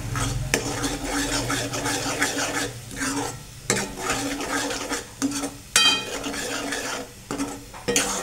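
Pav bhaji gravy with turmeric and pav bhaji masala roasts in oil in a pan, giving a close, busy sizzle broken by frequent spatula scrapes and metallic clatter against the cookware.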